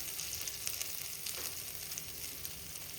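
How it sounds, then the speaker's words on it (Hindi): Ginger frying in a pan for a potato samosa filling gives a steady, fine sizzle of hot oil with faint crackles, continuous and close for the whole stretch, without any voices. "अब मैं इसमें डाल दूँगी अदरक को हमें 1 मिनट तक थोड़ा अच्छे से पकाना है।"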